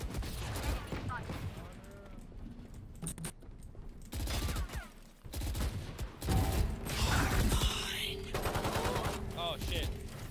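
Rapid automatic gunfire from a gun in Valorant rattles in long, fast bursts, loud and close, with a player's voice breaking in between the volleys.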